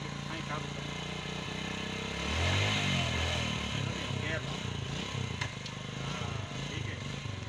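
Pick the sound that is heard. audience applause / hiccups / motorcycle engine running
motorcycle engine running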